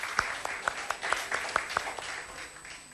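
An audience gives Menşure Erinç a faint round of applause, heard as sparse, fairly regular individual claps spaced a few tenths of a second apart over a quiet room.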